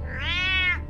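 A cat in Batman: The Telltale Series gives a single drawn-out, whiny meow with a rising and falling pitch, close and clear with no talk over it.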